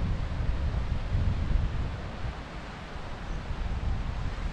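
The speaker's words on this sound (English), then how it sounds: "The waterfall down here." A small waterfall on Alport Moor pours in a steady broadband rush, with gusts of wind buffeting the microphone and no voices.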